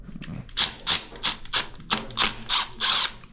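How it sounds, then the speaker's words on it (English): A cordless power driver backs a screw out of a fan coil unit, about eight short rhythmic whirring bursts with brief pauses between them, close and loud. "Take off this screw."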